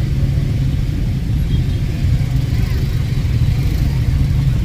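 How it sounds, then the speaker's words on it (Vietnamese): Car engines idle and rumble in a jammed street during a festival crowd, a steady dense low drone of traffic running throughout with faint voices mixed in. "Kẹt xe rồi, đừng có vô nữa."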